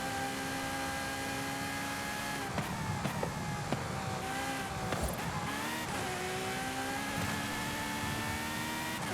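Ferrari FXX-K Evo race car in Forza Horizon 5, its engine droning steadily at high revs with brief shifts and surges as it is driven hard through corners, loud and continuous with no talk.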